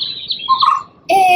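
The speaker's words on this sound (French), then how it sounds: "bercé par le chant des oiseaux" Birds sing in high, bright chirping phrases, close and clear, with a new louder burst of song near the end, heard during a gentle evening yoga session.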